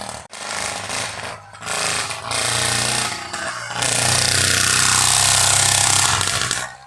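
A motorized bicycle's two-stroke engine, on a 16:1 break-in fuel mix with the carburetor still settling, runs loud and buzzing close by, surging in stages and holding a harsh high rasp toward the end.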